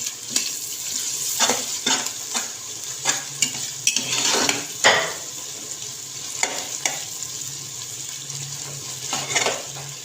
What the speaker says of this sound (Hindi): अब इसके अंदर 2 खाने के चम्मच अदरक लहसुन का पेस्ट डाल देंगे। एक से 2 मिनट हम पकाएंगे।